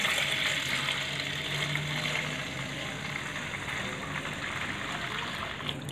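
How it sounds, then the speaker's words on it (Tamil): Water running and gushing into a container while mixing with bike degreaser, a continuous, steady pouring rush with a bubbling texture, close and moderately loud throughout. "இது வந்து ஃபுல்லாக நம்ம தண்ணியை மிக்ஸ் பண்ணணும்."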